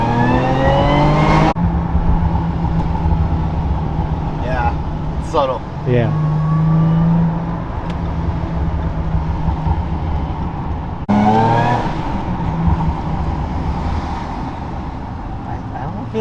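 A tuned Jaguar F-Pace S SUV with a VelocityAP tune and crank pulley, over 450 hp, roars loudly from inside the cabin as the engine pulls hard through rising revs with gear changes, while people talk briefly over it.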